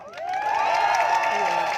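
A crowd at a student rally cheers and claps for the students, a loud, sustained swell of shouts and whoops that carries on throughout.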